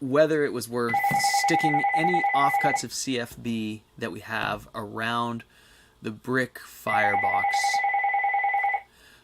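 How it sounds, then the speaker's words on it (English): A household telephone rings in two long electronic trilling bursts, clearly audible beneath someone talking steadily nearby. "oh, the phone."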